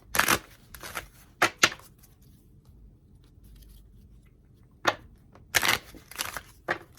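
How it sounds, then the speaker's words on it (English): Several quick, crisp bursts of tarot cards riffling and slapping together, close by, separated by quiet pauses. "You get one more shuffle."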